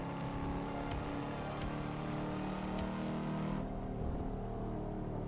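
A Volvo S60R sedan in the Assetto Corsa racing game runs at full throttle with a loud, steady engine roar that holds its pitch, then eases slightly near the end, with no talk over it.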